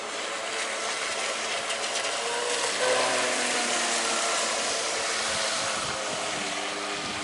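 An electric motor on a v-hull boat cruising along a river gives a steady, loud mechanical whine with a whirring gear-like buzz, layered over a constant wash of water.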